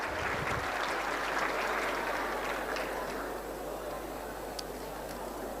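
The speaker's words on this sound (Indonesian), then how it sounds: "Berikan tepuk tangan, berikan plus untuk semua." An audience applauds through the whole stretch, a dense, even wash of clapping in a hall that fades slightly toward the end.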